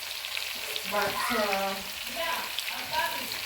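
Pork frying in a pan with onions and tomatoes in a village kitchen, a steady close sizzle as the mix is stirred, with a voice talking over it.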